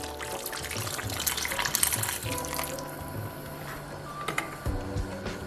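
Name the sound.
water poured into cooking pot of curry oxtail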